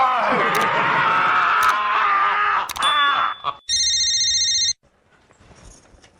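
A household landline telephone rings in a short electronic burst after loud music and voices from a Hindi TV comedy scene, followed by near silence.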